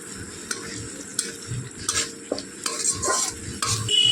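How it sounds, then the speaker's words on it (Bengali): Ginger, tomato and green chilli paste is stirred in a hot pan, a steady sizzle broken by repeated scraping strokes of a spoon against the metal, close and fairly quiet with no voices. "কাঁচা লঙ্কাটা দিয়ে একটু ভালো করে নাড়াচাড়া করে নেব।"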